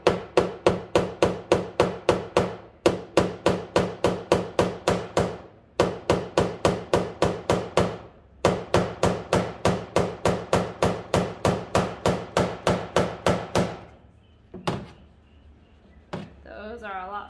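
Rapid, evenly spaced metallic hammer taps on a car body panel, knocking out dents, ring out in long runs with brief pauses, close and loud, followed by a few scattered knocks and a voice.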